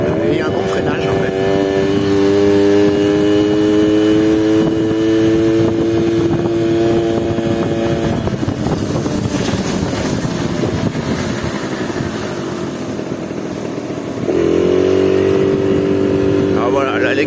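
A Yamaha Chappy LB50 moped engine revs up and accelerates, its buzzing two-stroke tone rising in pitch, easing off and climbing again, heard close and fairly loud while someone talks over it.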